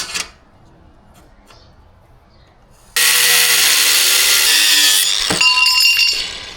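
A power tool cutting metal for a hazmat placard mount kicks in abruptly and loud with a bright, harsh whine, runs for about two seconds, then winds down with some metallic clinks near the end.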